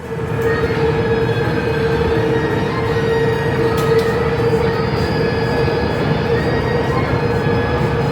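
A Busan Metro Line 3 train rolls along a gentle curve into Gupo station, a loud steady rumble of wheels on rail with a sustained metallic squeal whining over it the whole time.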